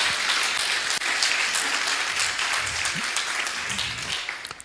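Steady, dense applause from a church congregation praising the Lord during a sermon, loud and continuous throughout with no speech over it.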